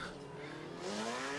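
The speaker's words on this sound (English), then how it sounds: "A really trick Nissan S14, SR20," Tuned Nissan S14 drift car with a 2.1-litre SR20 making 630 horsepower, on a qualifying run at a drift Grand Prix, gives a steady, loud engine roar with tire squeal that rises slightly toward the end.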